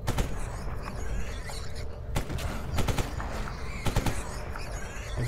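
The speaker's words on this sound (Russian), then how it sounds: "Патроны вон на калаш, смотри, трачу." AK rifle fire in the shooter game S.T.A.L.K.E.R. Anomaly: several sharp bursts and single cracks ring out over a low ambient game bed, with quick clustered shots near the middle and end.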